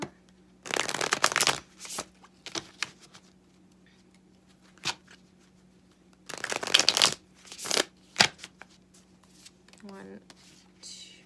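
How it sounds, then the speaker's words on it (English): Tarot cards being shuffled in several crisp riffling bursts with short pauses between them, close and fairly quiet, over a faint steady hum. "we're going to get you 3 cards from her"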